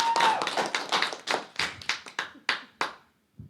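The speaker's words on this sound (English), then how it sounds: "Let's have a round of applause." A small audience at a literary awards event claps for behind-the-scenes helpers, starting as a brief burst and thinning to scattered, separate claps that slow and fade to near silence.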